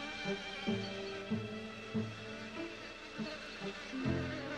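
Worker bees on the honeycomb, a faint steady insect hum with soft rhythmic pulses recurring every half second or so, no voices.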